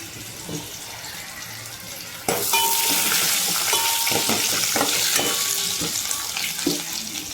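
Oil bursts into a loud, steady sizzle as dried red chillies hit the pan, crackling and spitting continuously with occasional stirring clinks.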